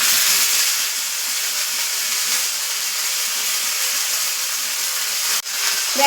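A hot oil tempering with whole red chillies and ginger-garlic paste sizzles as a steady, loud, close hiss that holds evenly throughout, with a brief dip near the end and no voices.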